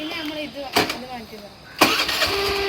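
A scooter with a failing self-starter is kicked over twice. Each kick gives a short, loud mechanical burst, and between the kicks a voice speaks over a low engine murmur.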